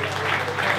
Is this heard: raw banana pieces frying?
no